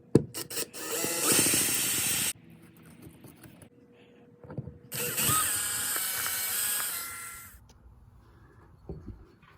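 Bolts are being removed from a garage light fixture with a power tool, heard as two loud whirring bursts of a couple of seconds each, with clicks and rattles in the gaps between them.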